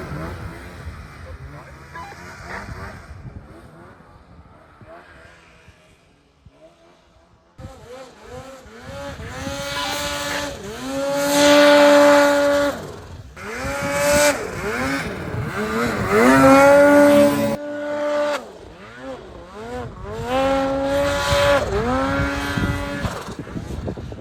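A snowmobile engine on a Jackson Hole hill climb, with a Boost-tuned machine revving in surging, rising and falling waves that grow loud and close, its pitch sweeping up and down through repeated throttle pulls.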